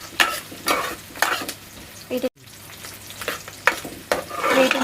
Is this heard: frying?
yes